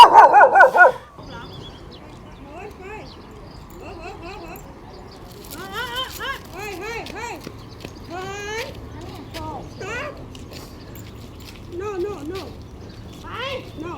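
Several dogs bark and yip in short, scattered bursts around a riverside spot, some nearer and some farther off, over a steady low background after a brief loud opening noise.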